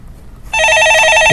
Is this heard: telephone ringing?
yes